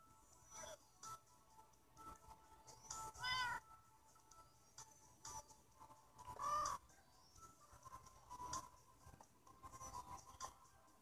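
A Minecraft cat gives several clear meows over a faint scratchy background, each one short and fairly close, spread across the clip with no talking.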